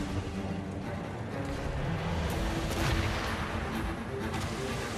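Ship cannon fire in Assassin's Creed Rogue: booming shots rumble over sea and battle noise at mid distance. Several heavy blasts rise together toward the middle.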